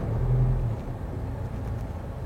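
An Isuzu MU-X in 4L low range crawling uphill without throttle, a low diesel rumble with a brief steadier hum at the start, fairly faint and unbroken.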